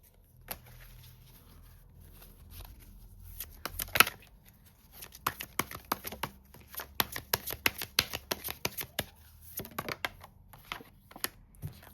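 Tarot cards are shuffled and drawn at close range: soft handling at first, then a sharp snap, followed by bursts of quick riffling flutters and slaps, fairly quiet overall.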